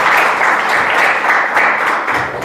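Students at a government college event clap loudly together in a close, continuous burst of applause that eases off slightly at the end.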